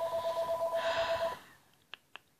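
A phone rings with a steady, pulsing electronic tone for about a second and a half, fairly loud and close, then stops and is followed by two soft clicks.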